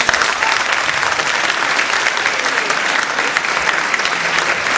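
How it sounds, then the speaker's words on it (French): Dense, steady audience applause fills a show hall at an Alliance française event in Elbasan, Albania, many hands clapping continuously and evenly throughout without pause. "Merci beaucoup, applaudissements."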